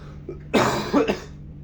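A person coughs hard at close range: a couple of harsh, throaty bursts in quick succession, alone with a faint steady hum behind.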